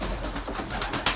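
Pigeons coo close by in a loft during breeding season, a soft throaty burble rising and falling, with no talking.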